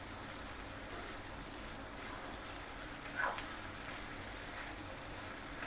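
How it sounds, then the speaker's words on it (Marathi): Chopped onion roasting and being stirred over a high gas flame with salt added, giving a soft continuous sizzle with a faint scrape of stirring partway through, quiet and close. "तोपर्यंत मोठ्याच गॅसवर मी कांदा असा हलवत भाजून घेणार आहे"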